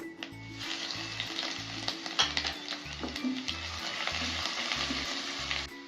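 Ginger garlic paste frying with cinnamon and cardamom in a pan for a meal maker pulav, a close, continuous hiss and sizzle with stirring scrapes over a regular low rhythmic thump.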